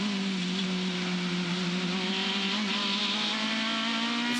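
Aussie Racing Cars screaming around the Adelaide circuit, their high-revving engines with motorcycle gearboxes pushing 11,000 RPM: a loud, sustained, near engine howl with steady pitch, no voices.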